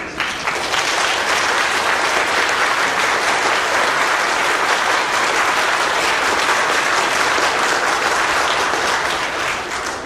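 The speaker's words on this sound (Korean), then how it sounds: "모두 큰 박수로 좀 환영해 주시면 감사하겠습니다." Church congregation clapping loudly and steadily to welcome a visiting pastor, a sustained wash of applause from a large indoor crowd lasting throughout.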